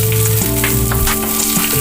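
Green chilies and peanuts fry in a pan with a steady, close, loud sizzle that runs continuously, no voices over it.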